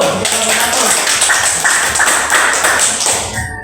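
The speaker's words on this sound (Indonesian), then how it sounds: "tepuk tangan dulu" A class of students claps together, loud, dense and close, sustaining a steady patter for a few seconds before tapering off abruptly at the end.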